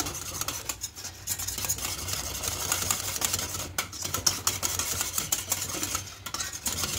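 Mango batter thickened with cornflour being stirred in a pan, a steady scraping and swishing with faint clinks of utensil against metal, continuous and close.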